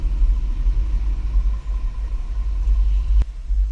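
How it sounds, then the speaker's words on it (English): A 2020 Kia Sorento carrying a Swagman XTC2 Tilt bike rack drives a slalom on a test course, a steady low rumble with one sharp click near the end. "Here on our test course, we'll start by going through the slalom."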